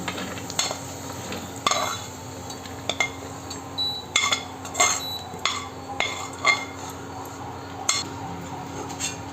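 Roasted almonds and raisins in ghee being scooped from a pan onto a plate, with a series of sharp metal spoon scrapes and clinks against the pan over a faint background hum.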